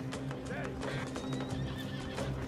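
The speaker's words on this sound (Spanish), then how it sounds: "No sé qué le pasa al caballo, está muy nervioso." A horse in the video game Red Dead Online neighs and whinnies nervously, with clip-clopping hooves and steady game ambience underneath.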